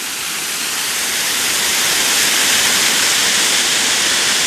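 Steady, loud roar of a waterfall on Prairie Creek, whose bed is limestone mixed with a little sand, heard from above the falls in Nerstrand-Big Woods State Park; a dense, unbroken rush of water with no pauses.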